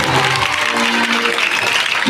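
Audience applause at a Hindi devotional music group's stage performance, dense steady clapping filling the whole moment, loud and close, with faint musical tones ringing underneath.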